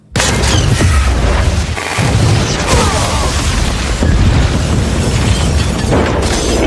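A loud, sustained bomb blast with rumbling debris and crackling bursts, dense and continuous throughout, like a cinematic explosion destroying an entire building.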